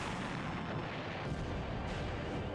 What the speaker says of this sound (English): Man, those explosions are so good.